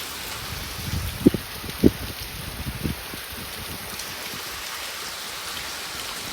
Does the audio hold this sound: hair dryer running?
no